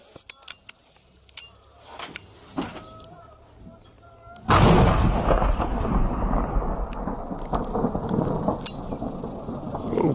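A Pakistan Army tank fires its main gun: after a few quiet clicks and knocks, one sudden loud boom breaks out and trails into a long, rolling rumble.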